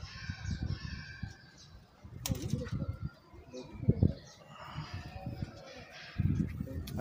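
Prince kamagar pigeons coo softly at close range, with occasional wing flaps and rustling; a person's voice is heard intermittently.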